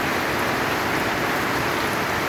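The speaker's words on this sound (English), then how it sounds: "So we have never had rain this badly in here." Heavy rain pours steadily onto a house during a flood, a dense, loud, unbroken hiss with no voices.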